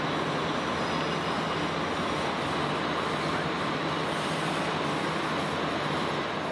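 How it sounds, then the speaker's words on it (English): Steady, loud rumbling and rushing noise from inside a moving passenger train bound for Xàtiva, Spain, constant throughout with no talking. "we're finally on the train to Xativa"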